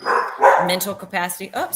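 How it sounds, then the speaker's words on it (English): A pet dog barks a few times close by, short sharp yelps mixed in with a person talking over it. "sorry, that's my dog, guys."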